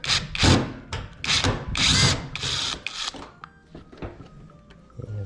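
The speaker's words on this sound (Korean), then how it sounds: "접지 나사를 풀어주겠습니다." Power drill unscrewing the ground screw on a Samsung Agasarang washing machine: several close, whining bursts of the motor in quick succession, then quieter ticks and clicks as the screw comes loose.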